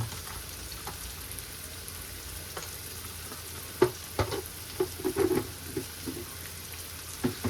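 Spices sizzling and frying in a pan for a dried prawn dish, a steady crackling hiss with occasional sharper pops and spatters of stirring later on, close and moderately quiet, with no talking.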